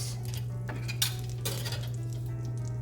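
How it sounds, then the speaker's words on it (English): Butter melting in a preheated pot for a four-cheese macaroni sauce gives a soft, steady sizzle with faint scraping and clinks from a utensil against the pot. "in a preheated pot, let's put our 1 tablespoon of butter. Let this melt"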